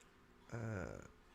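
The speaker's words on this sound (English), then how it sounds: "Burp, burp, burp." A single short burp, close and fairly loud, rising and trailing off into a brief rattly tail, otherwise quiet.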